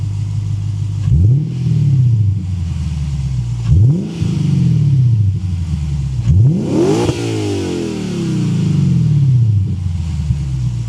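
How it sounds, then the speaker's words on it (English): A Lexus RC F with an Apexi axleback exhaust revs three times in quick succession, each sharp rise and fall close and loud, the last blip climbing highest before dropping back to a low idle burble. "let's go and hear the Apexi exhaust setup with the revving clips"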